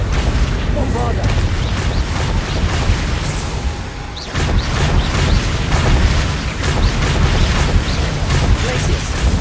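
Confringo and Bombarda spell blasts from Hogwarts Legacy, a dense run of booming, crackling explosions and bursts that keeps going with short breaks, loud and close against busy game noise.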